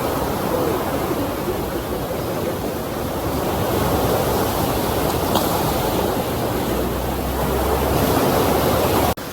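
Ocean waves wash steadily into a small sea inlet in front of a hotel, a loud continuous roar of surf and rushing water with no pauses or voices.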